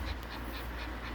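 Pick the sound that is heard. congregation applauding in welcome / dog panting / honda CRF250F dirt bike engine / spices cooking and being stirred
dog panting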